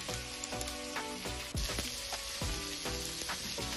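Serrano chiles fry in a pan with peppercorns and cloves, a dense steady sizzle with crackling pops and a few scraping stirs, close and unbroken, no talking.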